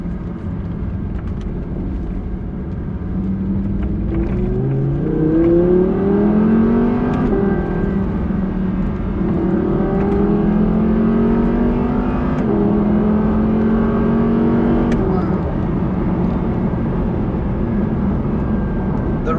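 An Audi R8 5.2 V10 Plus engine revs steadily and close by, its rising and falling engine note sustained for about twenty seconds without a break.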